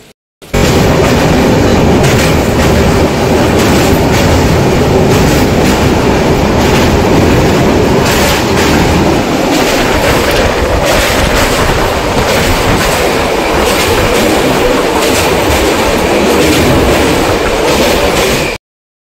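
A passenger train runs on rails on a journey toward Raipur, a loud, continuous rumble and rattle of wheels and carriages that lasts throughout with no voices.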